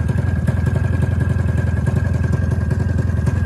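A 1996 Ski-Doo MXZ snowmobile engine idles roughly, a loud close throbbing putter with an uneven fast pulse and clattery undertone, steady throughout.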